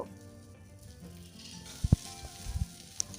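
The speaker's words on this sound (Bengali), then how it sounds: "বাদাম, টমেটো আর কাঁচা লঙ্কা একসঙ্গে দিয়ে গ্যাসের ফ্লেমটা লোতে রেখে এগুলোকে ভালো করে ভেজে নেব" Peanuts, tomato and green chilli fry over a low flame in a pan, a soft continuous sizzle with a few sharp knocks and scrapes of stirring in the middle.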